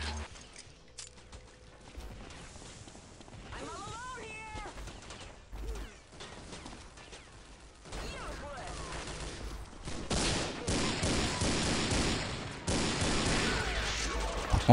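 Weapon fire in Unreal Tournament 2004 with the Ballistic Weapons mod, a steady spread of shots and impacts that grows denser and louder toward the end, mixed with game effects and some voice.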